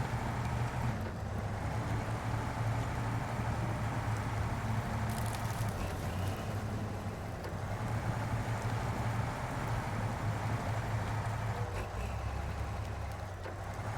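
A heavy truck engine in the off-road driving game SnowRunner rumbles at a steady, continuous drone throughout, loud and close with no talk over it.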